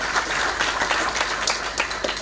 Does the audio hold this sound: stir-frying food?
no